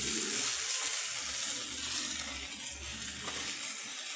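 Sago stirred into a hot pan for sabudana khichdi, giving a continuous close hiss and sizzle with soft stirring scrapes throughout and no talking.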